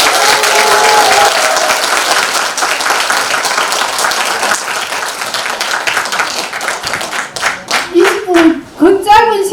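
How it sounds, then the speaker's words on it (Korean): Audience applause fills a hall at a Social Workers' Day ceremony in Hamyang, steady dense clapping that thins and fades toward the end as a speaker's voice comes in over it. "그 짧은 시간에 정직하게 강의해주신 박상태 교수님께 큰 박수 부탁드립니다."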